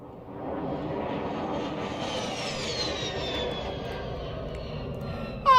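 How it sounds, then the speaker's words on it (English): An aircraft roars through a bombing strike in a video game: a sustained jet-like engine drone with a descending whine, growing and holding steady before a brief sharp burst at the end. "another aircraft bombing strike"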